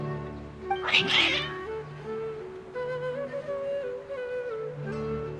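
Cats in the Genshin Impact video game meow and caterwaul insistently, one sharp loud cry followed by drawn-out yowls over soft game music.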